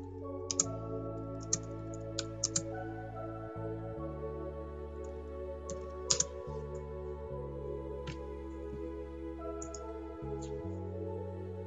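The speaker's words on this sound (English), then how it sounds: "but I'm just type it in." Sparse, light clicks of typing on a computer keyboard sit over a steady, loud background of sustained tones, with a few sharper taps near the start and middle.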